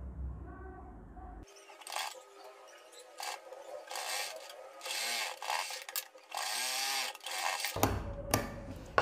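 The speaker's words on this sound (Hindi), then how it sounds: "अब हम यहाँ से अपनी सिलाई को कंप्लीट इसी तरीके से कर देंगे" A sewing machine stitches a blouse seam in bursts of busy mechanical whirring from about 1.5 to 8 seconds, with short pauses between runs, close and moderately loud, following a brief voice at the start.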